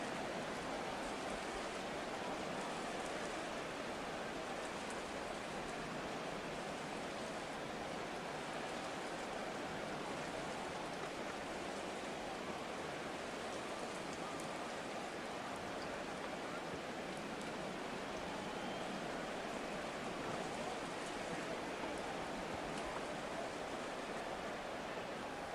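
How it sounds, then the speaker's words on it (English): Steady rain falls during a Madden 24 football game between the Broncos and Chargers, a constant even hiss of downpour with no breaks, filling the whole background. "Forecast calling for more of the same. The rain set to continue as we are underway in the second half."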